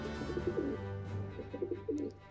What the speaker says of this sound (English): Pigeon noises.